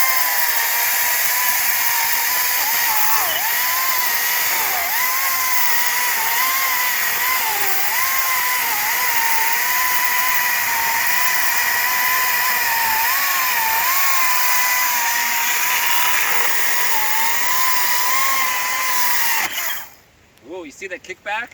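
ECHO DCS-2500T 56V battery electric chainsaw cutting through wood, a loud steady high-pitched motor whine with slight pitch dips under load, running continuously before cutting off abruptly near the end.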